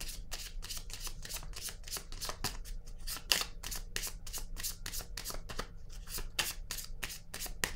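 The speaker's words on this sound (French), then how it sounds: "je vais piger d'autres cartes" Tarot cards shuffled and dealt in a steady run of crisp, rapid riffles and flicks, close and continuous with no talking.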